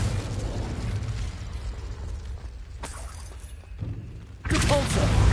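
A fire spell explosion in the video game Hogwarts Legacy, a dense rumbling blast with crackling bursts that fades and then flares again loudly toward the end.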